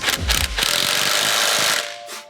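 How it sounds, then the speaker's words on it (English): A wrench works the V-band clamp on a Magnaflow exhaust tip of a Toyota GR Corolla, giving a close, rapid mechanical buzz that runs for about two seconds and then stops. "I'm gonna loosen this V-band here. Caleb's gonna push it up, and I'm gonna retighten it."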